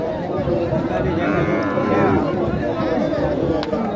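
Cattle, including Sahiwal heifers and calves, moo amid a noisy crowd at a cattle market in Naogaon, low drawn-out calls rising over a busy background of chatter and movement.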